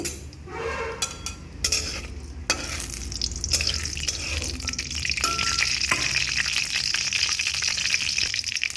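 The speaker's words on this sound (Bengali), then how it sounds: "এরপর এটাকে আস্তে আস্তে আমি ভেজে নেব" Cumin and chillies frying with chopped banana stem in hot oil, a steady close sizzle with occasional stirring clatter that swells and stays loud throughout.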